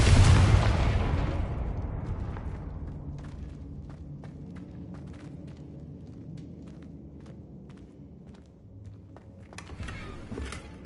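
A Confringo blasting spell goes off in Hogwarts Legacy with a loud booming explosion, then a long rumbling decay with scattered small thuds and crackles and a second burst near the end.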